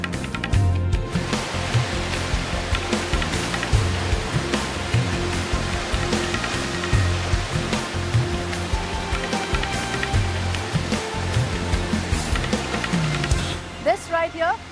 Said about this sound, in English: This lovely fountain or waterfall, whatever you want to call it, has been built on both sides of the road.